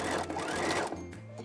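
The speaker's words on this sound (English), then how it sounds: "I'm gonna carefully work our way around this curve, straightening it out as it gets into the machine." Sewing machine stitching fabric around a curve while sewing thong underwear, a steady close motor whir that slows and eases near the end of the run.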